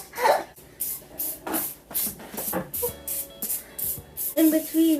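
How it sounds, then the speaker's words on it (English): Non-stick cooking spray greasing a small baking pan for brownies, a series of short hissing bursts in quick irregular succession, close and fairly loud, with faint voices in the background. "get your little baking pan and to grease it with some Spray. it's non-stick whatever."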